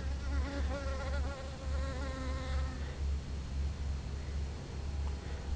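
A honeybee buzzes steadily around mustard flowers in a garden, its droning hum wavering as it works close by over a constant low outdoor rumble.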